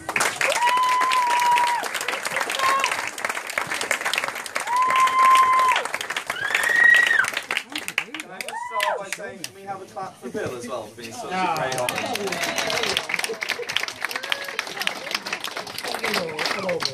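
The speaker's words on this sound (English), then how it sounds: "Everyone like to give us a clap for the best man." Wedding guests applaud the best man in a crowd, with steady clapping mixed with voices and some tonal sounds, then chatter and talking continue afterwards.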